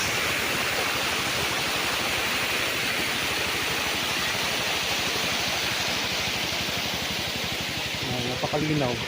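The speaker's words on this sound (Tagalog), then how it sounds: "Ayan o, ang agos ng tubig ng lakas." Strong, rushing flow of a clear spring-fed stream on a farm in Lucban, Quezon, a steady dense wash of water that runs unbroken throughout, close and loud, with a faint voice creeping in near the end.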